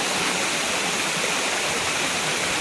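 Water gushing steadily from a cow-mouth spout at a Gangotri-style shrine beside a stream, a loud, continuous rushing roar heard up close with no pauses.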